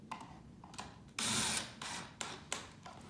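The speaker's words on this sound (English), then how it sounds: "Run the screws in." Screws being driven into a wooden farmhouse corner bench, with a run of short clicks and ratcheting bursts from a driver plus one longer whirring stretch, faint and close with no talk.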